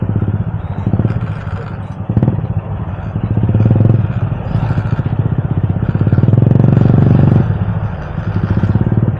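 A motorcycle engine chugs and strains along a rough road, loud and close, with rattling clatter and uneven surges in the throttle throughout.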